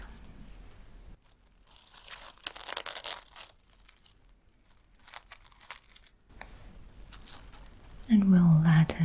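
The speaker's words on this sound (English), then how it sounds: "I'm just wrapping it with this crinkly" Crinkly plastic wrap being wound around a hand during a soft-spoken massage, making close, bursty crackling and rustling in bouts separated by quieter pauses, with a voice near the end.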